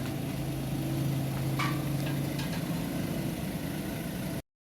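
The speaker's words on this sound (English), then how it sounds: "Now we're driving over the bridge to mainland." A car crosses the bridge from Phuket Island to the Thai mainland, giving a steady, low in-cabin engine and road hum with no talking, until the sound cuts off abruptly.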